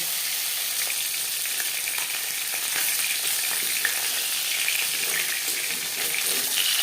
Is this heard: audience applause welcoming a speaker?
no